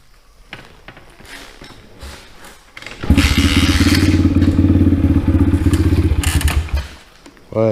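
A cheap Chinese dirt bike starts cold after a leaking carburetor repair: a few thumps and clatter, then the engine catches at about three seconds into a loud, steady idle up close, cutting off near the end.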